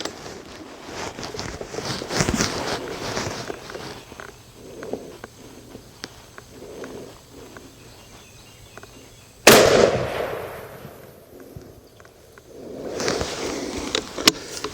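Two sharp, loud rifle cracks from a Ruger Model 77 MKII chambered in .264 Win Mag ring out outdoors, widely spaced, each followed by a brief fading echo over quiet background noise.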